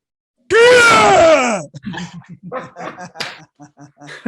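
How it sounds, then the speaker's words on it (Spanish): A loud, sustained energy shout from a hapkido martial arts practitioner, a single strong harmonic cry lasting about a second, followed by voices talking and laughing. "Mándenos un gritico de esos de expresión de energía que salga."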